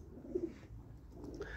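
Pigeons cooing softly in a loft with adult pairs and their young, low throaty coos repeating in a quiet, close-by stretch with faint background noise.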